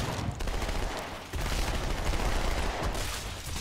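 Gunfire in the Halo 2 Anniversary video game, dense bursts of automatic shots and blasts filling the clip loudly and continuously.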